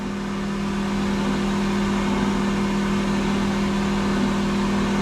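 A Vapor Honing Technologies Micro Hone vapor blaster sprays slurry with a loud, constant hiss over a steady pump hum, holding an unchanging drone from start to finish.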